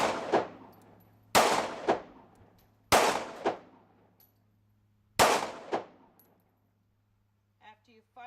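Handgun firing four rounds at a target on a qualification range, sharp loud shots spaced about one to two seconds apart, each followed by a short echo, with a steady low hum underneath.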